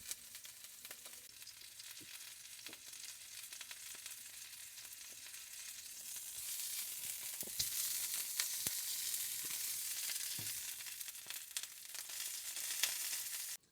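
Steak searing in a frying pan, a soft, even sizzle heard close that swells slightly louder in the second half, broken by a few faint clicks and taps, with no one talking.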